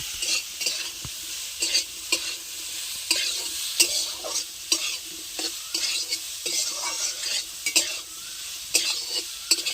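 Raw jackfruit being stir-fried with turmeric and salt in a pan, a continuous sizzle broken by repeated scraping strokes of a spatula against the pan, close and fairly loud with no talking.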